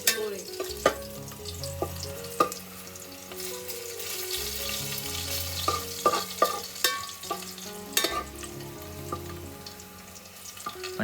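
Garlic and whole spices sizzle and crackle in hot oil on a wood-fired chulha, a steady broadband frying hiss punctuated by sharp clinks and scrapes of a ladle stirring, close and fairly loud with no talking.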